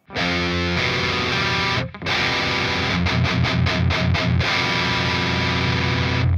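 A low, sustained distorted guitar power chord in drop tuning rings, breaks briefly, then returns with a run of quick staccato chugs before sustaining again; loud and up front.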